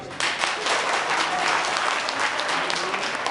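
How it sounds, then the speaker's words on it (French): An audience at a Guinean RPG party political meeting bursts into dense, sustained applause that starts abruptly and continues steadily throughout. "Applaudissez."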